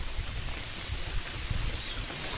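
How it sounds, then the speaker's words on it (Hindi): Heavy storm rain falls steadily around a house and garden, a dense continuous hiss with low rumbling patter throughout, fairly loud and with no voices. "बहुत बारिश हुआ है।"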